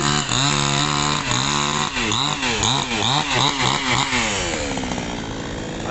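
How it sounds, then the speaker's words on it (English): Chainsaw running in Cambodia, a loud buzzing whine that revs up and down in repeated surges before settling into a steadier drone, heard alone without voices. "A chainsaw."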